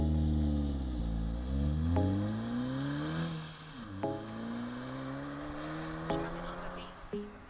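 A SEAT Ibiza Cupra pulling away, its engine revving up through several gears with rising pitch sweeps and brief drops at each shift, close and fairly loud, with a voice briefly heard.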